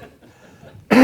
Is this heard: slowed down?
no